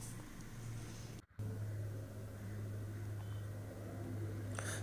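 A TVS Apache RTR 200 4V BS6 fuel-injected motorcycle engine runs in a smooth, steady low hum, holding an even tone apart from a brief dropout.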